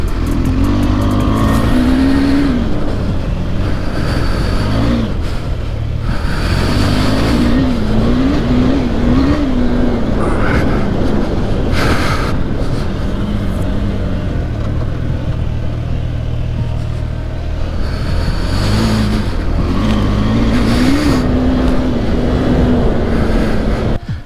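KTM 390 Adventure motorcycle riding off road, its single-cylinder engine droning loud and close throughout with repeated rising revs and throttle surges, steady wind and rumble underneath, no talking.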